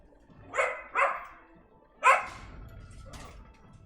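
A dog barks three times in short, sharp bursts, two close together and a third after a pause, fairly close and clear, with a faint bark or whimper trailing off near the end.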